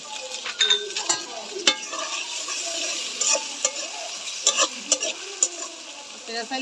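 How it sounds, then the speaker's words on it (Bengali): Tomatoes and onions frying in a pan as a fish curry is prepared, with a steady close sizzle broken by repeated scraping and clinking of a spatula stirring against the pan. "এবার টমেটো দিয়ে দিব পেঁয়াজের সাথে একটু কষাই নিব"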